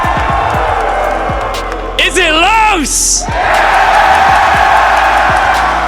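Crowd at a Team Skittlz vs. Team Beaulo showmatch at the Major Blast 6 event in Atlanta cheering steadily, with a loud whooping yell rising mid-way and a host talking over the roar.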